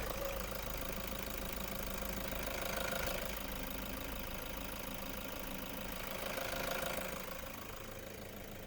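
A Toyota Commuter 3.0 diesel van engine idles with a steady, low knocking rumble, close and constant throughout, with no voices.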